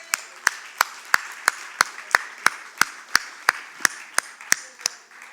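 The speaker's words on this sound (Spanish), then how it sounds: "Denle un aplauso" A church congregation claps during a Spanish-language worship service. Fourteen slow, evenly spaced claps ring out sharply against a faint background murmur.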